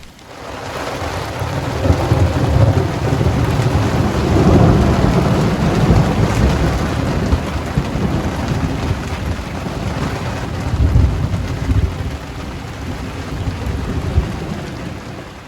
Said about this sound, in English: This thunderstorm rumbled on for a good couple of hours, and as it progressed the rain got heavier and heavier